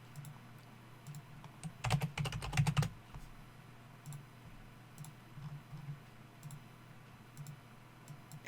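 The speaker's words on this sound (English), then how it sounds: "Just type in that much of the word." Typing on a computer keyboard, quiet close key clicks in short scattered bursts with one dense flurry of rapid keystrokes early on, alone with no talk.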